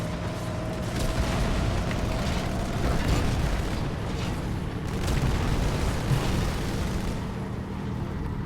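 In the video game Halo 2 Anniversary, booming explosions and heavy cannon-like blasts from a tank roll through a dense battle din, swelling and fading over several seconds without speech.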